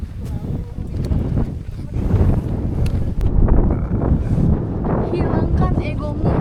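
Strong wind buffets a tent and the microphone on a mountain trail on Mount Merbabu, roaring and gusting steadily, with muffled rustling and a voice faintly beneath it.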